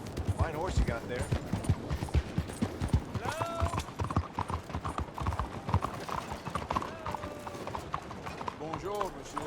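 Horse hooves clip-clop steadily in Red Dead Redemption 2, a rhythmic clatter running under near constant male dialogue, with a brief whinny-like tone in the middle.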